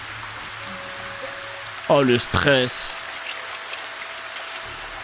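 Steady rain falling in an anime episode, a constant patter under a short burst of excited talking.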